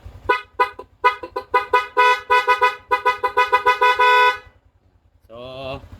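A Yamaha Sniper V3 motorcycle's horn sounds in a fast run of short, close, loud beeps, then gives way to a brief different tone at the end.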